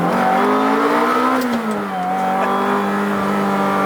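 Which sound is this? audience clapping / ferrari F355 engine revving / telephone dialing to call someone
ferrari F355 engine revving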